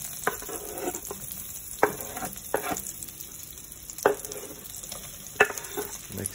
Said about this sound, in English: We're going to fry these plantains.